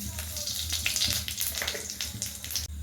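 Two dried red chillies and a little panch phoron hit a small amount of hot oil and crackle with a dense, busy sizzle that keeps going under a low background hum.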